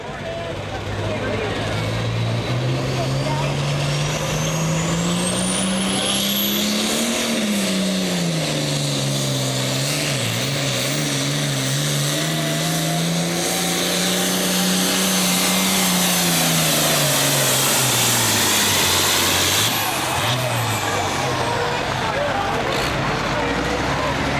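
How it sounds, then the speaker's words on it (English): Mac Darnell's turbocharged Super pulling tractor roaring down the track at the 2003 American Tractor Pullers Association Midwest Summer Nationals, a loud, sustained engine howl with a rising turbo whine whose pitch wavers, with talk over it. "I'd say that new turbocharger working pretty good for Mac Darnell"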